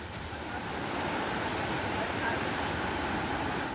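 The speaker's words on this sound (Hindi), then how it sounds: "यह सिक्किम से बहने वाली तीस्ता नदी है।" Teesta River in Sikkim in flood after heavy rain, water rushing past. A dense, unbroken roar of churning water fills the whole stretch, loud and close.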